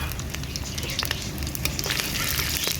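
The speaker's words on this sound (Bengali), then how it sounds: "তেল গরম হয়ে গেছে, দিয়ে দিচ্ছি 5 ফোড়ন কাঁচা লঙ্কা" Panch phoron spices and green chillies crackle and sizzle sharply in hot oil for a vegetable chachchari, a close, steady frying hiss with scattered pops and no talking.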